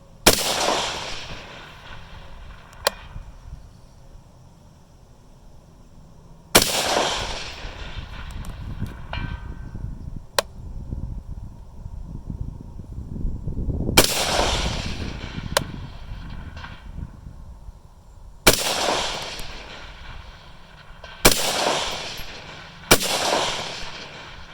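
Rifle fired at a 75-yard target through an Atibal 4-24x50 Stealth scope: six or seven sharp, loud outdoor shots spaced several seconds apart, each followed by a rolling echo tail.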